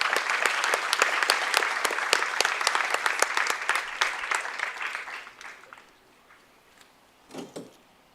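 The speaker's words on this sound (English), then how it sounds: "Let's get one more round of applause for these heroes." Applause for veterans and first responders at a Greenwood Post 20 American Legion baseball game, a crowd clapping steadily and fairly close for about five seconds before fading out, followed by a brief muffled knock.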